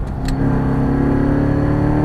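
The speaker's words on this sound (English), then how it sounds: "A little more throttle, unwinding the wheel, fast as you want to go." Chevrolet Corvette C7 Stingray engine pulling hard under throttle, a loud, steady mid-pitched drone that holds close and constant for about two seconds.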